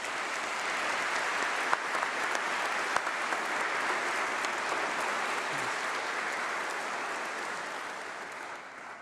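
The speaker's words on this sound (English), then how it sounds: "Please, let's give them all a round of applause." A graduation ceremony audience fills the hall with sustained applause, dense and steady for the whole stretch and fading slightly toward the end, with no voices on top.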